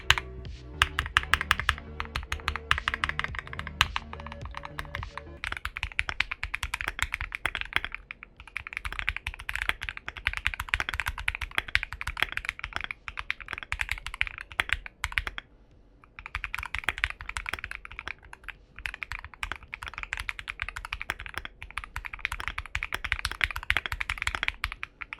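Rapid, crisp typing on a custom mechanical computer keyboard, close and clear, with dense clicking keystrokes in bursts and a few brief pauses over about 25 seconds, no voices.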